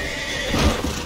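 A horse whinnies in Assassin's Creed III, its neigh rising briefly over a steady background din with a soft hoof thud near the end, loud and close.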